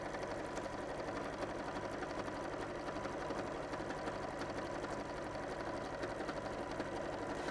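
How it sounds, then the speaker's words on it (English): A sewing machine edge-stitching down one side of a fabric block runs in a steady, continuous whir at moderate volume, heard alone without any talking. "So sew down one side to hold it together"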